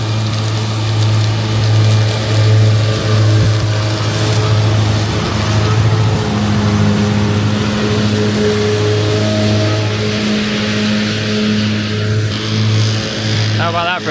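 A tractor running a set of mowers cuts grass for first-cut silage in a rough field, its engine droning loud and steady throughout with harmonic hum and a faint whir of the cutters; a voice speaks over it.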